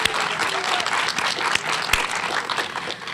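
A crowd claps steadily in dense, continuous applause at an elementary school ribbon cutting ceremony, close and fairly loud, with a few sharper individual claps standing out.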